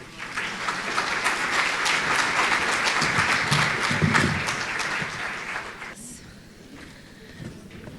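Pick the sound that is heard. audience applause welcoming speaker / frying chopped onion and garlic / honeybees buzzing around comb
audience applause welcoming speaker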